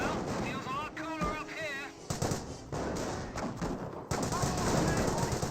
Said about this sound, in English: the Grenadier squad is receiving quite a bit of fire right there